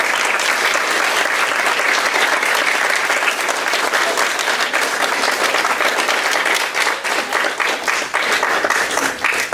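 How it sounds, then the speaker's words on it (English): A crowd gives a man a long, loud round of applause, steady and dense throughout, with some sharper individual claps standing out near the end. "I'd like to everyone give John a round of applause."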